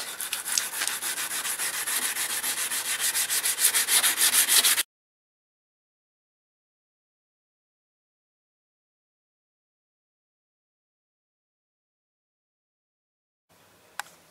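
Damp sandpaper rubs back and forth on a car's painted panel in steady rapid strokes for about five seconds, close and loud, then silence with a brief knock near the end.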